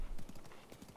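A horse's hooves clip-clop in a quick, light rhythm across rocky ground in the video game Zelda: Breath of the Wild, fairly faint and close.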